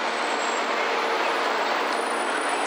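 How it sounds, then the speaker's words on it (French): A JR West 700 series Kodama Shinkansen pulls into a station with a steady, broad rumble and hiss. The sound stays loud and unbroken, with a faint high whine above it and no voices. "Là-bas c'est un Kodama Wavestar, la série 700"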